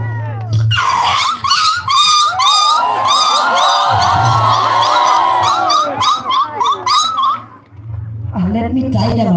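Dogs scuffle with snarls, whines and sharp yelps in a loud, chaotic burst, the noise swelling and overlapping before trailing off.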